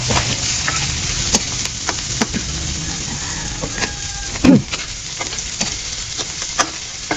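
Garlic sautéing in a hot pan in the Filipino style, a constant loud, broad sizzle with scattered stirring scrapes and taps and one brief louder clatter near the middle, without any talking.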